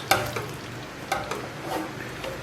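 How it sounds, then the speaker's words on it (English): A spoon scrapes and stirs through thick Persian fesenjan stew of walnut and pomegranate in a pot over very low heat, giving a few soft, irregular swishes and clicks close by with no voices. "I'm going to add all this in, stir it together"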